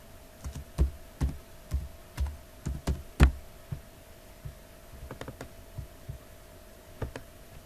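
Typing a folder name on a computer keyboard: a run of close, crisp key clicks in uneven bursts, with a brief pause midway before more keystrokes, over a faint steady hum and no talk.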